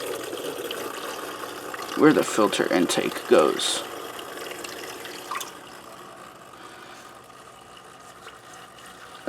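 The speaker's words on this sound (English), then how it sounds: "You want to get some of your water and pour it in" Water poured into a Fluval AquaClear aquarium hang-on filter at the intake, a burst of splashing and gurgling mixed with the motor's mechanical rattle, close and loud, then settling to a quieter churn as a person talks over it.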